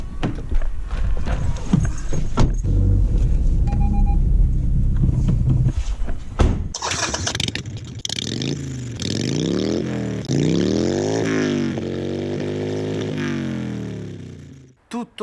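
A Harley Davidson Sportster 883 Iron motorcycle is started and moved, its engine revving in repeated swells after some knocks and handling sounds, loud and nearby.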